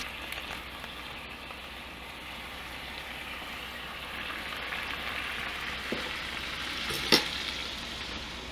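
Sauce sizzles on a hot pan cooking huevos rancheros, a steady soft frying hiss throughout with a brief sharper crackle near the end.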